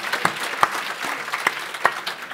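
A small studio audience at a Dutch television show gives light, sparse applause, with a few distinct claps standing out over a soft, steady patter.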